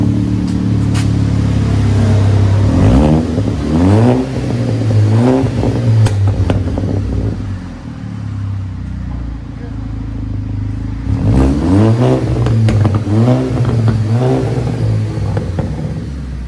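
A 2011 Audi A5 2.0 Quattro with a 2.5-inch straight-pipe exhaust revs close by in two clusters of quick, raspy throttle blips over a steady idle drone, with a voice talking over it.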